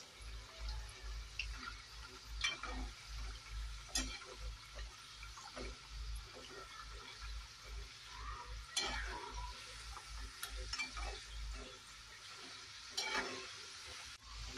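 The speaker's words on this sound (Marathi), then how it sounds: "असं खरपूस तळून घ्यायचं छान मंद आचेवरती." Laddu dough pieces deep-fry in oil over a low flame while a slotted spoon stirs them, giving a steady soft sizzle broken by occasional scraping clinks, close and alone.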